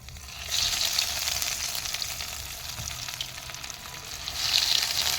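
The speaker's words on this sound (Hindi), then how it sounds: "अब हम एक एक कबाब तेल में डालेंगे।" Kebabs go one by one into hot oil in a kadhai on the stove, a hissing, crackling fry that swells as each piece drops in, then settles into a steady, fairly quiet sizzle.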